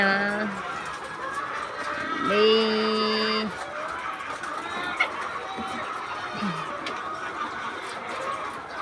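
Farm chickens being fed cluck and squawk nearby, with one loud drawn-out call midway and scattered shorter clucks, under faint background noise and occasional voices.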